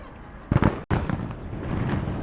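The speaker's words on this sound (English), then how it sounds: "Pardon the fireworks." Fireworks go off outside a terrace dining spot, a sharp booming burst followed by a brief cut, then a rumbling, crackling tail that lingers at moderate loudness.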